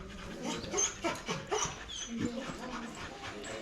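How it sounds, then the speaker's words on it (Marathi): A dog at a temple site in Mandavgad, Madhya Pradesh, whimpers and pants in short, uneven bursts close by, with people talking over it. "आपल्याला खुशी हा कुत्रा भेटलाय बघा"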